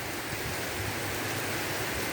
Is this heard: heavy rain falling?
yes